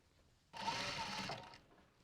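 Close and steady, a sewing machine stitches a short run of about a second on a bumbag, then stops into quiet.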